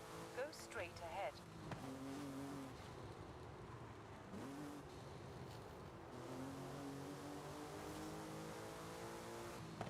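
A car in Forza Horizon 5 drifts with a sustained engine drone and rising revs, tires squealing in short bursts over a steady roar throughout.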